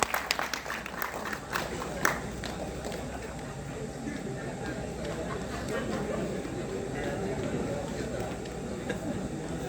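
Audience applause at a district-level CSC training workshop in a hall, with sharp claps early on giving way to a dense, steady clatter of many hands, mixed with crowd noise and some talk.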